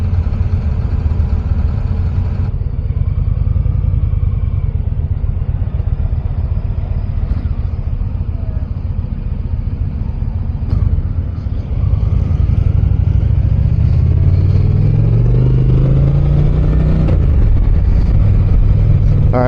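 Indian Challenger Dark Horse cruiser motorcycle with a 112 cubic inch engine running, a loud close low rumble that idles, then revs upward in rising sweeps toward the end, with no talk.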